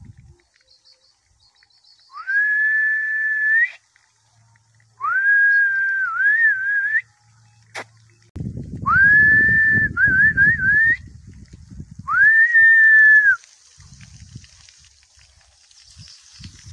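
A person whistles to call a dog on a farm beside a sugarcane field, four long rising whistles with brief warbles at steady intervals, clear and close, with some rustling and low handling noise in between.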